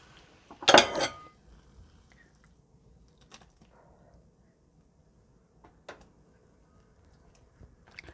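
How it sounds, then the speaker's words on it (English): Cooked instant noodles are tipped into a bowl for a Chinese-style jjapaguri, making one loud clattering clink of dishware early on, then only scattered faint taps and knocks. "Put the noodles in the bowl."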